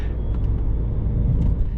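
A 1999 BMW E46 328i drives along with a steady low engine and road rumble heard from inside the cabin, loud and continuous with no talking.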